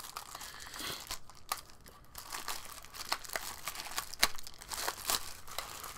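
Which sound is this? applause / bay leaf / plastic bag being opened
plastic bag being opened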